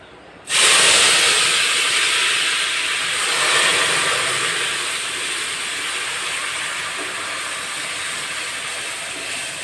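Lentils (dal) tipped into hot oil burst into a sudden loud sizzle, then settle into a steady, bright hiss that eases slightly over the following seconds, with no talking.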